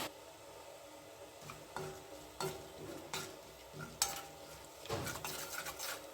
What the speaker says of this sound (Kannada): ಎಣ್ಣೆ ಕರಗ್ತಾ ಇದೆ ಹಾಗೆಯೇ ಒಂದು ಚಮಚ ಉದ್ದಿನಬೇಳೆ ಒಂದು ಅರ್ಧ ಚಮಚ ಸಾಸಿವೆ ಹಾಕ್ತಾಯಿದ್ದೀನಿ